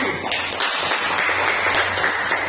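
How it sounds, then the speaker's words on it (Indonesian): A classroom of students gives a round of applause after a group's presentation, steady, moderately loud clapping with a faint hum under it throughout. "tepuk tangan dulu untuk kelompok 1."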